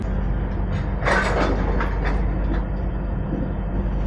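A passenger train pulling out of Vijayawada in Andhra Pradesh, with a steady heavy rumble and a few metallic clacks and squeals from the wheels, heard from inside the coach with no talking.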